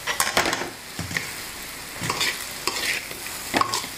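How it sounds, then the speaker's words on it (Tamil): Vegetable fried rice is tossed and mixed in a hot pan, quick scraping strokes of a spatula against the metal in short bursts over a light sizzle, heard up close without speech. "ரைஸ் கொஞ்சம் கொஞ்சமாக சேர்த்து மிக்ஸ் பண்ணிக்கலாம்."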